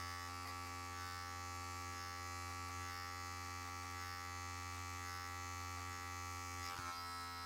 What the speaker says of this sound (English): use only the tip of the clipper with the lever open at 0